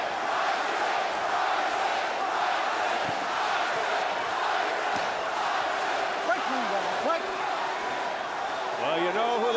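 A boxing arena crowd roars steadily throughout a heavyweight bout, a dense continuous wall of cheering and shouting heard from a distance, with a commentator's voice talking over it.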